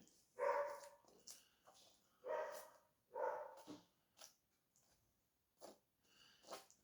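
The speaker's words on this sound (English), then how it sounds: "dogs are running crazy around the garden, but Dippy keeps escaping and going next" Several dogs barking in a garden, a handful of short sharp barks in irregular bursts, moderately near, with quieter snuffling sounds between them.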